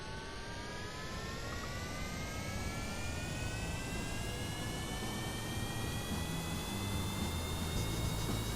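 Rocket engines in the game Kerbal Space Program fire at full throttle, a steady, dense roar with a rising whine layered over it, continuous and fairly faint throughout.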